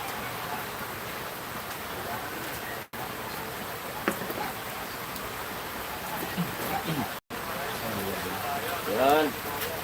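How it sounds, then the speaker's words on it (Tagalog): Heavy typhoon rain pours down in a dense, steady roar that fills the whole scene, with brief dropouts and a voice speaking faintly beneath the downpour. "Ayan po, grabe ng ulan."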